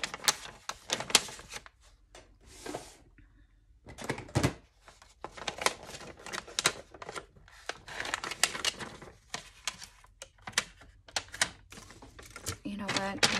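Scissors cutting out traced paper for junk journal ephemera, a series of close snipping and paper rustling sounds in irregular bursts with brief pauses, while a person talks over it.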